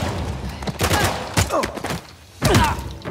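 Gunfire in the video game Uncharted The Lost Legacy, a few loud bursts of shots and thuds spread across the moment, with brief groan-like vocal sounds mixed in.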